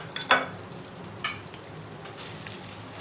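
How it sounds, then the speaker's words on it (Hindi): Whole dried chillies, cut open, fry in oil for a ridge gourd (turai) sabzi, giving a faint, steady sizzle with a soft clink near the start and another brief clatter midway. "गोल्डन ब्राउन होने तक फ्राई करूँगी"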